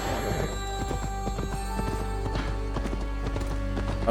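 Horse hooves clip-clop at a steady trot through a stretch of Assassin's Creed Valhalla gameplay, close and continuous over a low drone of game music, with a brief horse whinny mixed in.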